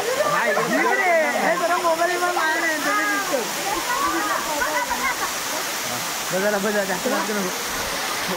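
The Marleshwar waterfall roars and splashes loudly and continuously while people standing under it talk close by over the rushing water.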